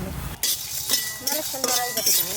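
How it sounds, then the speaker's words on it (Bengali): Dry red chillies, nigella, mustard, coriander, fenugreek and cumin are stirred in a pan for a mango and green jackfruit pickle, with close clinks and scrapes of a spoon over a soft sizzle and a voice in between. "এইটা একটু ভালো করে নেড়ে নেব"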